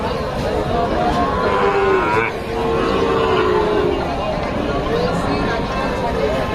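Cattle at the Raniganj cattle market moo in long, loud calls, one after another, over busy market babble while people talk nearby.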